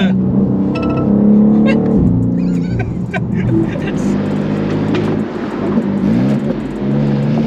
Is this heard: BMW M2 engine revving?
yes